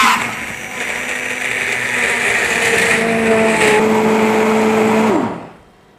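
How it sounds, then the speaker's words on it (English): Stick blender whirring steadily through a pot of roasted vegetable soup, a continuous close motor drone with a slight pitch rise midway before cutting off near the end, no talking. "then we're going to blend with a stick blender"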